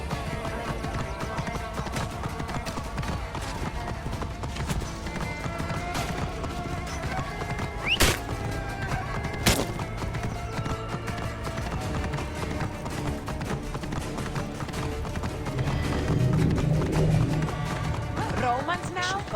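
Horse hooves clip-clopping at a run in Assassin's Creed Origins, with sharp whinnies and neighs over steady galloping, mixed under game voices and background activity.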